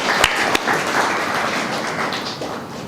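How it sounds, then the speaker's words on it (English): An audience at a formal session claps, a dense steady wash of applause that starts with a couple of sharp claps and slowly fades. "Let's give a big applause for that."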